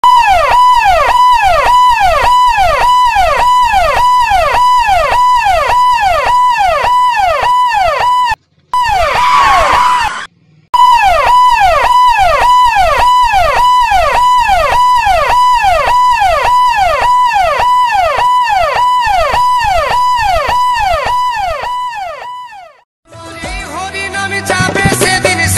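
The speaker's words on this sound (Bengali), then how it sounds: "অ্যাম্বুলেন্স" An ambulance siren wails loudly and close, a rapid repeating rising-falling electronic yelp that continues steadily with two brief gaps, then gives way to a harsher electronic sound at the end.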